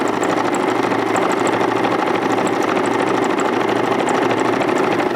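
A sewing machine runs steadily, stitching fabric along lines with a continuous whirring, humming motor close by and no talking.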